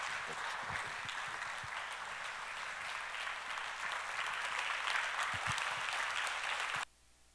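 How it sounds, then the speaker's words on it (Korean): A church congregation claps warmly in sustained, steady applause for about seven seconds, then it stops abruptly. "우리 따뜻한 박수로 존경합니다"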